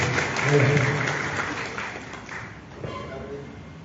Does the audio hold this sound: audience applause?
yes